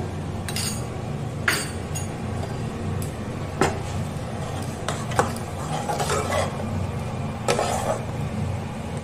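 A spatula clinks and scrapes in a pan as vegetables are stirred with coriander, cumin and turmeric powders and a little roasted spice mix, with scattered light metallic taps over a low kitchen background.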